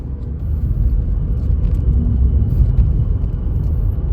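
A VW or Skoda car with active cylinder technology runs in two-cylinder mode, its engine giving a loud, steady low rumble while driving, with no talking.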